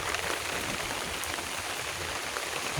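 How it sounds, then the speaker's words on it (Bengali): Heavy rain pours steadily over a farm with fish ponds after a full day of downpour, a continuous dense hiss that stays even and close with no voices. "আজকে অনেক বৃষ্টি হচ্ছে"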